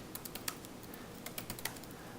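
Fingers typing on a computer keyboard at a quick, uneven pace, crisp close key clicks in short bursts over a quiet background.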